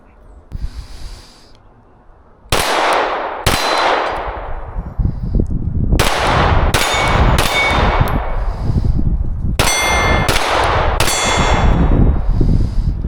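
Outdoor range with 9mm pistol rounds striking steel targets: about eight loud cracks, each with a ringing metallic clang, some in quick pairs and bursts, the hits close and sharp.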